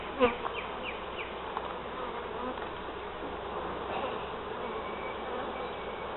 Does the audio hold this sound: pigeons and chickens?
no